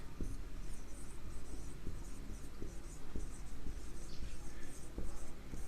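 A heading being written on a classroom board during a maths lesson, faint scratchy strokes with occasional small taps over a steady roomy background hiss.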